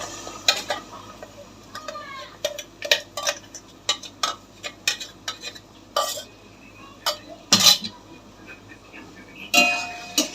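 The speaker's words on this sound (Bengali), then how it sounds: "ভালো করে নেড়ে নেবো।" Clatter and scrape of a spoon stirring ginger-garlic paste into fried potatoes in a pan: a run of short, uneven taps and scrapes at close range, with a faint sizzle underneath.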